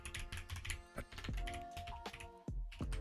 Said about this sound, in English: I actually forgot what I was typing there for a second, and I was actually typing the right thing